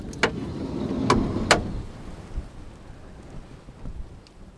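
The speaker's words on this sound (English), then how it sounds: "And it's raining now outside." Rain falls outside a camper van on a wet, chilly day, a soft continuous patter heard from inside, broken by a few sharp knocks near the start.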